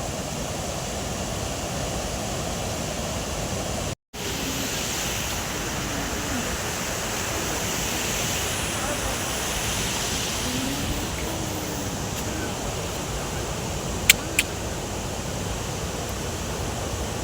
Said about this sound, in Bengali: এই দেখুন কি সুন্দর ঝর্ণা পড়ছে।